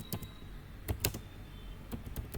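Keystrokes on a computer keyboard while a chmod command is entered in a terminal: several sharp clicks come in small clusters, close and clear, with no talking.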